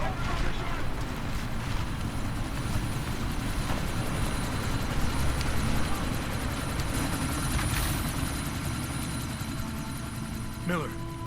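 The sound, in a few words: helicopter flying in the video game Deus Ex: Mankind Divided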